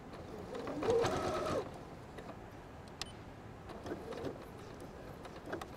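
A sewing machine stitches quilt binding on a table mat in one short, close whirring burst, followed by faint ticks and light handling sounds.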